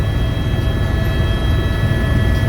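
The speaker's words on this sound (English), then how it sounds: "This is the quietest helicopter of its class in the world." A helicopter flies over Niagara Falls, heard from inside the cabin as a steady, loud, even drone with a constant whine on top and no talk.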